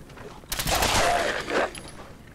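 Gunfire from a favorite gun in Fallout 4, a dense burst of rapid loud shots lasting about a second, then fading into quieter game ambience.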